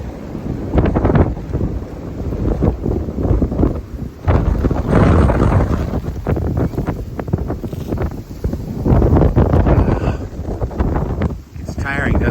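Strong, gusty New England wind, with gusts past 50 miles an hour, buffets the microphone in loud rumbling surges, rising and falling throughout, with no other clear sounds standing out.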